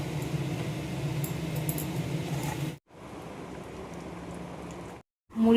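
Boiled peas go into simmering ghugni in a pan, giving a steady bubbling, hissing wash of cooking noise that cuts out briefly twice.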